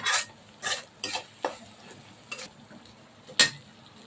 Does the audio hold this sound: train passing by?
no